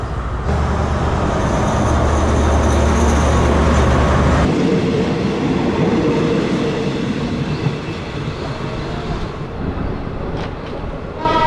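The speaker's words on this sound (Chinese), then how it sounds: "火车的声音也太大了" A train rumbles past close by in central Bangkok, Thailand, loud and steady, with a deep low drone at first that eases into rattling clatter before fading slightly.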